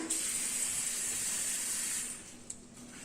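Tap water runs in a steady hiss for about two seconds over mung bean sprouts being washed, then shuts off, leaving a few faint drips and splashes.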